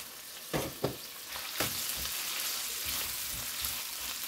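Meat browning in a pan for Swedish meatballs, a steady close frying sizzle with a few sharp clanks and scrapes of turning near the start, no talk.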